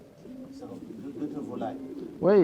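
Pedigree pigeons kept by a breeder coo in a soft, low, rolling murmur under a man's French conversation, ending in a louder, nearby call.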